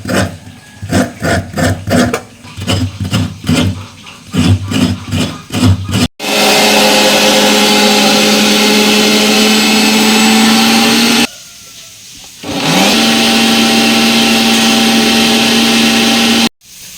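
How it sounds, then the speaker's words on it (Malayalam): Coconut being grated for a prawn curry on a steady motorized grinder, starting with a choppy, pulsing rhythm, then running as a loud continuous whir that stops briefly and resumes. "അപ്പോൾ തന്നെ നമ്മൾ ചെമ്മീനിക്കുള്ള തേങ്ങ ചിരക്കിക്കൊണ്ടിരിക്കുക കേട്ടോ."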